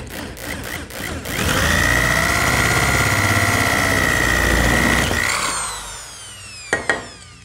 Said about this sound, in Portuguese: Tem que segurar firme, porque então essa broca, se ela tranca, ela pode te dar mau jeito no braço